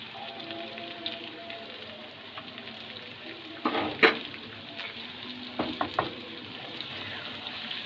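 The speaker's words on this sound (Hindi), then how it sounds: "इस तरीके से आहिस्ता आहिस्ता मिलाएंगे, वरना आलू टूट जाएंगे।" Potatoes stirred gently in a frying pan with a steady crackling sizzle underneath and several louder clattering scrapes of the spoon near the middle and end, no talk.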